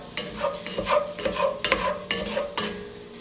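Mushrooms cooking in a pan over a medium flame, a steady close sizzle broken by repeated scraping stirs of a utensil, with no voices.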